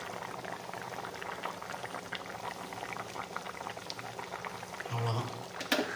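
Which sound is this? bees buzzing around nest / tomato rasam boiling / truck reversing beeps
tomato rasam boiling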